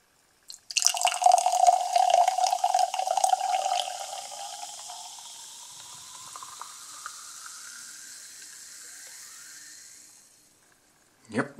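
Lidl Energy Drink Classic pours from a can into a glass with a loud fizzing gush at first, then carbonation hisses and crackles more softly as the pour tapers off, close up, ending with a brief clink.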